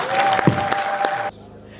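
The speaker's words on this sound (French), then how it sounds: "Quand vous applaudissez, applaudissez ce monsieur." Audience applause at the inauguration of a new campus in Lubumbashi, a dense burst of clapping from a crowd that runs for over a second and then cuts off abruptly into quiet room tone.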